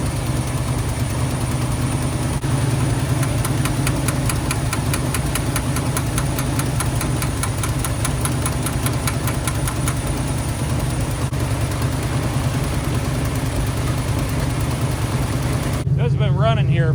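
A 1977 Ford F250 pickup with a carburetor idles steadily and close for a long stretch, its engine chugging with a rhythmic low knock while someone talks over it.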